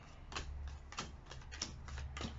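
Tarot cards being shuffled by hand, a deck kept for about twenty years, giving a run of soft riffling, ticking bursts roughly every half second over a steady low hum, close and quiet with no talking.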